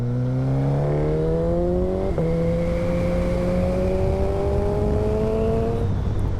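A tuned Suzuki GSX-S1000 GX motorcycle accelerates hard through the gears, its engine note climbing steadily with a quick gear change midway, loud and close over steady wind noise, with no talking.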